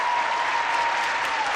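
A studio audience breaks into sustained applause, a loud, steady wall of many hands clapping together, with a faint steady tone running underneath and no voices.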